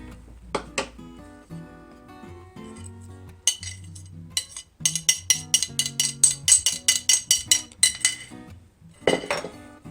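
A spoon clinks against a bowl while fruit pie filling is stirred, first scattered taps, then a fast steady run of bright metallic strikes, close and fairly loud.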